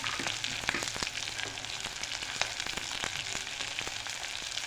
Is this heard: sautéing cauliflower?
yes